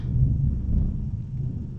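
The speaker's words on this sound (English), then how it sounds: "that thunder is crazy loud" Deep, heavy rumbling fills the whole stretch, a loud low roll of thunder that swells early and lingers without a break.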